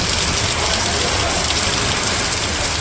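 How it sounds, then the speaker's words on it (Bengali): Heavy rain pours down steadily on a village during a thunderstorm with lightning, a dense, loud, continuous hiss of rain on surfaces filling the whole stretch without pause. "বৃষ্টি বৃষ্টি জোরে দিকে গেল"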